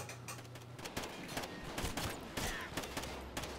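Suppressed gunfire from a Call of Duty Ghosts 2v2 match on the Freight map: dense, rapid muffled shots and clicks in overlapping bursts, fairly loud and steady across the clip, with no talk.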